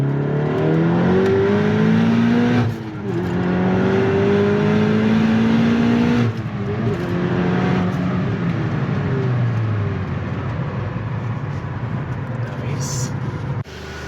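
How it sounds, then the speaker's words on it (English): A 2017 Volkswagen Golf R with a new engine and an HPA Motorsports FR450 kit revs hard through a second gear pull, its pitch climbing in steady sweeps broken by quick gear changes, loud and close with a voice talking over it. "So we're gonna do a second gear pull here."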